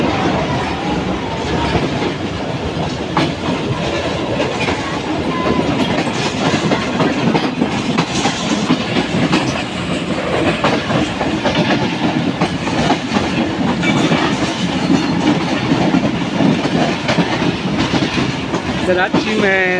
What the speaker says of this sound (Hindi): कराची में दाखिल हो चुकी है ट्रेन।